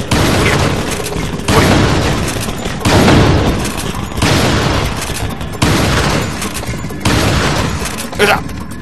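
Bursts of gunfire at a shooting gallery in Resident Evil 4, in repeated volleys of sharp shots, loud and close, with short gaps between each round.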